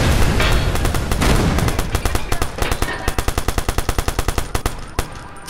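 Rapid automatic gunfire from a weapon in the video game Watch Dogs, loud and close, long sustained bursts breaking into evenly spaced rhythmic shots toward the end, with no talking.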